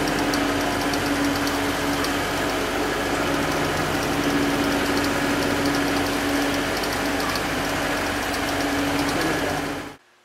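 Completely rebuilt boat engine idling with a steady, loud, even knocking drone and constant vibration, running alone for about ten seconds before cutting off abruptly.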